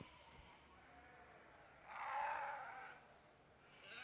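Dorper ewes bleat faintly at a breeding sheep show, one clearer bleat rising midway over a low, steady hall murmur.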